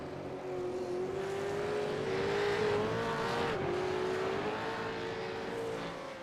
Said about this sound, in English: You can hear the cars now. Their rear tyres are not gripping up on that climb, Clyde. You can hear the revs go right through the ceiling.